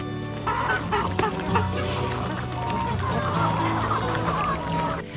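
Yangshan chickens, a Guangdong free-range breed, cluck and call on a hillside farm, several birds close by in a busy overlapping chatter, with faint talk beneath.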